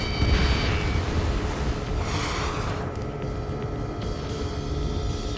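A deep rumbling blast from an Ace Combat 7 missile strike rolls out and lingers under a steady jet-engine roar, loud and continuous with no voices.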